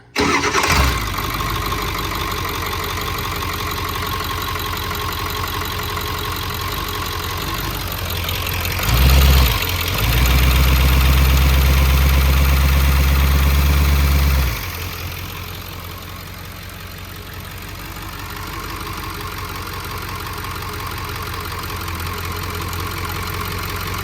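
A Peterbilt 379 truck's 16-liter CAT diesel engine idles loudly nearby with a steady clattering rumble, revs up heavily for a few seconds, then settles back into a lower, even idle.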